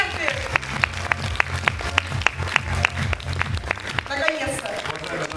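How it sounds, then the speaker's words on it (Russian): Audience applause at a December 2013 Street Style dance school year-end concert: a steady run of claps, some sharp and evenly spaced, with voices talking over it. "Спасибо, аплодисменты"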